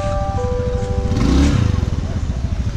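A small moped engine idles and revs close by in Thailand with a rattling, buzzy putter, a brief rise in pitch midway.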